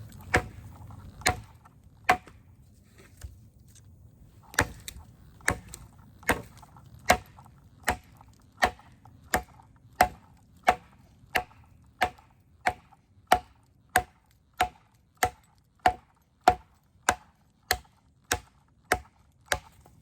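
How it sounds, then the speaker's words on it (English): A steel chopping knife strikes wood again and again, sharp regular whacks that speed into a steady, rapid rhythm after a few hesitant opening hits. "This knife is designed for chopping, so we're going to do some chopping here."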